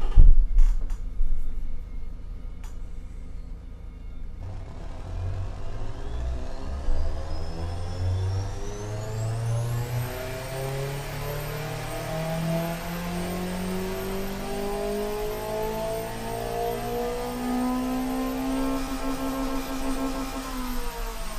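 A 3.1 liter four-cylinder sports sedan engine in the video game Automation, revving from idle and climbing steadily to a high, sustained whine, loud and alone throughout.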